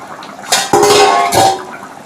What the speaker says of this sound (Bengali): এবার আমি ঢাকনাটা তুলে নিলাম।